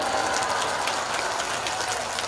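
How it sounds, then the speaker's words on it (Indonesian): Audience applause at a religious lecture in Perumnas Mandala, Medan, a steady dense clapping wash holding evenly throughout, fairly loud with no speech over it. "Jangan tepuk tangan dulu"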